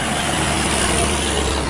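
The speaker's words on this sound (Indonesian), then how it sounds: "Truk besar lintas" A big truck rolls past the Simpang Patin bend on the Palembang–Jambi highway in Desa Suka Jaya. Its broad, steady roar stays loud and close for the whole moment, with no voices.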